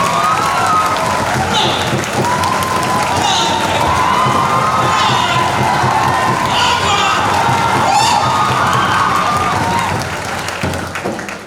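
Audience at a motivational talk on Hindi medium students applauding and cheering loudly and steadily, with shouts and whoops rising over dense clapping that fades slightly near the end.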